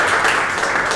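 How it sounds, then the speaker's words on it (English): Brief, dense applause from a karate training class audience, a steady wash of clapping hands at close range with no voices over it. "Big round of applause"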